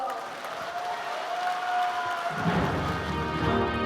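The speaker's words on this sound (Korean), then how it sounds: "따뜻한 박수로 격려해 주실 것을 부탁드립니다" Crowd at a Korean political party's presidential candidate nomination rally applauds, clapping at moderate level with a tonal hum underneath, growing fuller and louder partway through with some cheering.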